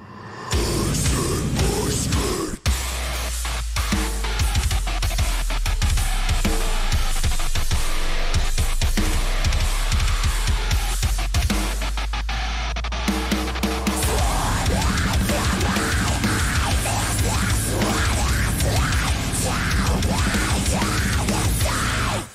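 Loud, dense heavy metal song with pounding low drums and distorted guitars, stop-start hits early on, then a sustained driving wall of sound.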